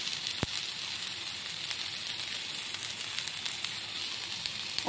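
Chopped onions added to potato and eggplant already frying in oil, a continuous soft sizzle with scattered light crackles and one sharp clink early on, no voices.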